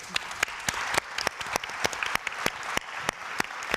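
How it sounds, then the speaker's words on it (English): An audience at a gastronomy tourism conference session bursts into sustained applause, many hands clapping densely with sharper individual claps popping out, filling the room without pause. "a big applause for them,"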